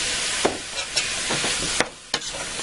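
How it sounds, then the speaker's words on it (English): Beef frying with onions in a hot pan gives a loud, steady sizzle throughout, broken by several close scraping stirs of the utensil against the pan bottom. "all that onion goodness on the bottom of that pan is going to pull up as I fry this beef"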